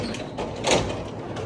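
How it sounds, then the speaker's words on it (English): A car door swings open on an S197 Ford Mustang drift car, heard as a single short, fairly loud rush of noise midway through, set against a steady low background hum. "I'm going to open the door."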